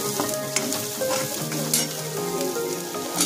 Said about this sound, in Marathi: चांगलं मिक्स करून घेऊया। त्यानंतर बटाटे टाकून घेऊया।